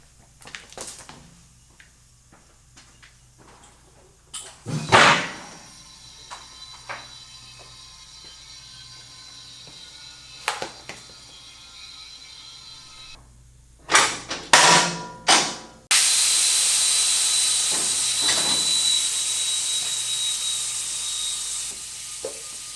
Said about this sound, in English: let's get the lift up